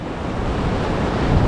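Turbulent white-water surf churns and crashes against a rocky Portuguese coastline, a loud, continuous roar of breaking waves with some wind buffeting the microphone and no voices.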